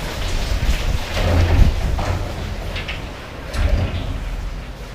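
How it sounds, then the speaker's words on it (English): Heavy rain pours outside a back-alley apartment in Taipei, heard through a closed door as a steady muffled wash with occasional low thuds and swells. "You can hear it is pouring outside."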